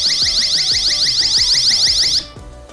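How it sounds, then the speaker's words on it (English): Shrill safety alarm from a Ledlenser K6R key-ring light: a loud, rapid warbling electronic siren that pulses steadily for about two seconds, then cuts off abruptly, leaving quiet. "It has the shrill alarm and signal function."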